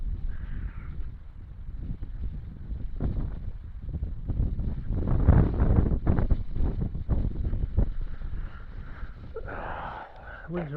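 Wind buffets the microphone beside a lake, a steady low rumble that swells and fades for several seconds with faint voices in the background.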